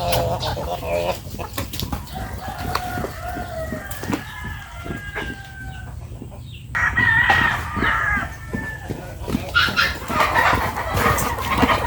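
Several chickens cluck and squawk nearby, with a rooster crowing partway through, a lively farmyard chorus that grows busier toward the end.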